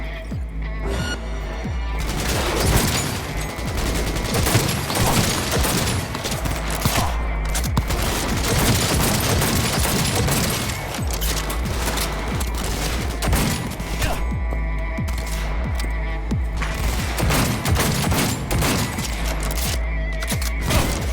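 Gunfire in a Cyberpunk 2077 firefight, dense, loud volleys of rapid shots and bursts running continuously for about twenty seconds, with brief pauses and booming impacts.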